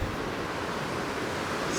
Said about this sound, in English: here we are right out on the waterfront looking at the beautiful Caribbean Sea right off your front doorstep